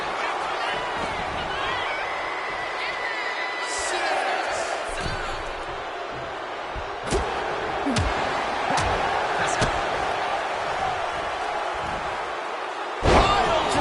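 Piledriver slam in the WWE 2K26 wrestling video game, heard as sharp thuds and impacts over a steady crowd roar, with commentary voice, and a heavy hit near the end.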